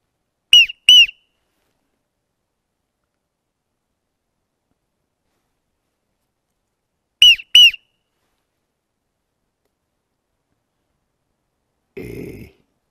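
A whistle is blown in two short double blasts several seconds apart, shrill and close, with a brief rustling thud near the end and silence in between.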